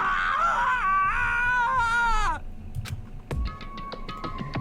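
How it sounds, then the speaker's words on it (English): Taka's anguished screaming from the video game Danganronpa: Trigger Happy Havoc, a loud wavering wail for about two seconds that cuts off, followed by scattered clicks and short tones. "As Taka's sad screams invaded our skulls"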